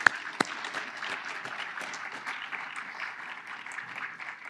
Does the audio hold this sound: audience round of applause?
yes